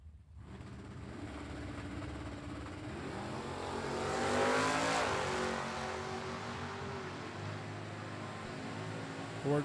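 A 1991 Ford Mustang and a Ford Fairmont launch side by side at a drag strip, engines roaring and building to a loud peak mid-run before holding a strained, receding drone.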